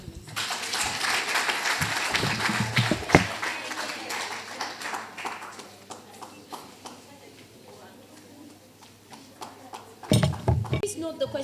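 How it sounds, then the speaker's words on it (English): Audience applause at a foundation event, uneven scattered clapping that swells loudly, thins out in the middle with a few isolated claps, then bursts up again near the end, with voices talking underneath. "A wonderful applause for them,"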